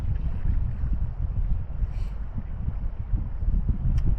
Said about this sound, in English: But right now we're loving the wind. It's a tailwind